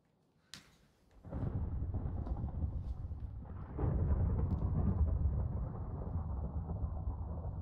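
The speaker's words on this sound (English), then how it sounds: "I'm gonna just go to bed so we don't have to deal with that thunderstorm." Thunderstorm in the GregTech New Horizons game: a sharp crack of thunder, then a loud, continuous rolling rumble mixed with heavy rain, building again midway and holding steady to the end.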